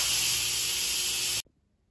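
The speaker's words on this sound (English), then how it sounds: "so let's quick release the steam." Loud, steady steam hiss from an Instant Pot's quick pressure release after cooking chicken drumsticks, rushing continuously for over a second before cutting off abruptly to near silence.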